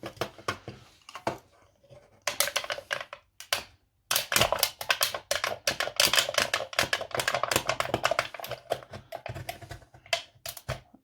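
Sharp metallic cutting and piercing of a tin can with a blade, a dense run of rapid crunching and clicking snips with short pauses, close and fairly loud, no talking.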